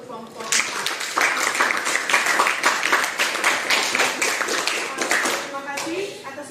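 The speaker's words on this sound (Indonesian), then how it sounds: "Berikan tepuk tangan untuk kelompok 4" A classroom group gives a dense round of clapping after a presentation on waste management, steady and close for several seconds, with some talking under it.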